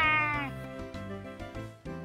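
A Meowstic cry in a Pokemon video game: one synthesized, cat-like meowing call, followed by rhythmic game music tones, with no talk.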